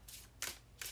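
A deck of tarot cards being shuffled by hand, up close: three quick, crisp bursts of riffling card noise in succession, with no talking.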